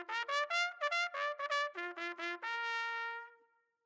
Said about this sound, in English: Brass instrument with a flared bell and three valves.